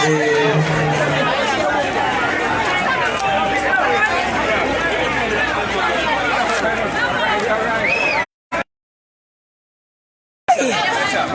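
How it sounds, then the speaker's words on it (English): Outdoor crowd chatter and loud babble of many voices as people disperse after a political party motorcade on nomination day, continuous and close, with a sudden brief dropout near the end. "as you can see, the crowd is dispersing"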